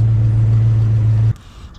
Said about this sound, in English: we'll rev it up here again in the back. Go ahead and rev it up